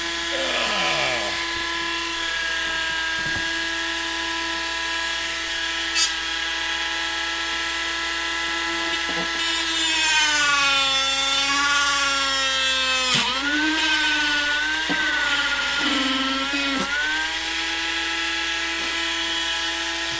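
A handheld rotary tool with an abrasive bit grinds a Proton Pack prop part, a high, steady whine that dips and rises in pitch as it loads against the piece, close and loud, with a person speaking over it.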